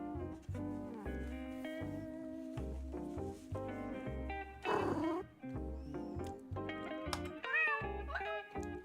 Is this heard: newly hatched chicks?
no